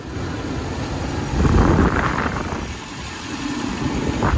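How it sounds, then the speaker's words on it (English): A Rover car engine idling steadily at close range, a low continuous rumble that swells briefly midway before settling back to an even hum. "engine's on."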